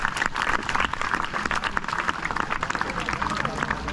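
Audience at a college Seerat-un-Nabi conference claps for a student speaker giving his first speech, dense continuous applause close by with crowd noise.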